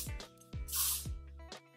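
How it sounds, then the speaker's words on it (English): A short burst of aerosol hairspray hisses once amid faint background music with deep thudding beats. "my Beachwaver Great Barrier heat protectant and hairspray"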